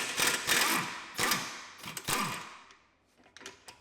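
Size 21 caliper bolts come off the wheel hub knuckle of an Audi Q7 in a series of loud, close mechanical bursts of tool noise, three main bursts, then fainter rattling clicks.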